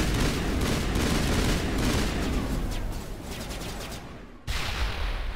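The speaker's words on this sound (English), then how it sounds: "Trying to burst fire this damn thing." A gun in Mass Effect fires in bursts, dense rapid rattling shots that stay loud, dip briefly, then resume abruptly, with no speech over them.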